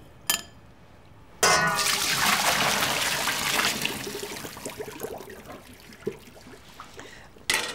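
Cooked linguine being drained, a burst of rushing, splashing water pouring out at close range for several seconds, then tapering into trickles and a few light knocks.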